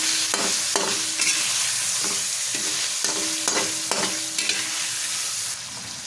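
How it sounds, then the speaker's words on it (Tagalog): Chicken liver adobo stirred in a sizzling pan, with steady frying hiss and repeated scraping strokes of the utensil at an uneven rhythm, close and clear with no voices. "Haluin natin."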